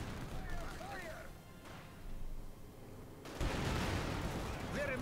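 Tiger tank gunfire in the video game Company of Heroes 2, at the Battle of Rostov in the USSR: rumbling battle noise that breaks into a loud, sudden blast midway, under a man's speech.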